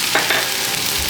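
Potatoes and onions seasoned with salt and black pepper are stirred in a pot over a loud, continuous sizzle, with a few brief scrapes near the start.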